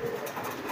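A male pigeon coos while driving a hen, a short low throaty coo heard close by but fairly quietly, lasting under a second.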